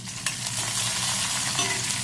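Urad dal, chana dal and dried red chillies frying and being stirred in a pan for chutney; a steady close sizzle with soft scraping stirs, no talking.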